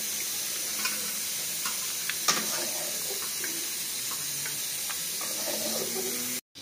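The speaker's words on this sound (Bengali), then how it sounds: "তো এখানে আমাদের কড়াতে তেল গরম হয়ে গেছে। এতে ফোড়নে আমরা দিয়ে দিলাম বেশ কিছুটা কালো জিরে" Nigella seeds and chopped garlic sizzle in hot oil in a kadai, a steady close crackling hiss with a few brief clicks of stirring, ending abruptly.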